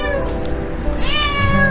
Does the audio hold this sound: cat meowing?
yes